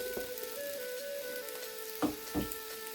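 Chopped green chillies hitting hot oil in a frying pan for hotel-style chicken devil, a soft steady sizzle with a few faint clinks, close and quiet.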